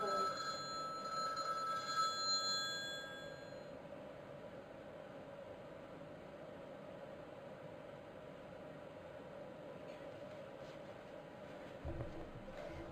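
A telephone ringing indoors, its electronic tone sounding clearly for the first few seconds and then stopping, leaving a low steady room hum with faint rustling.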